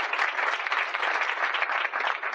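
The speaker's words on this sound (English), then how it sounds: "And so huge round of applause." Steady applause from an audience at a Southwest Airlines and Ronald McDonald House event, dense and even throughout with no pauses.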